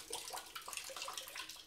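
Water spraying and splashing from a single-handle shower fixture, a steady hissing patter at close range with no voices.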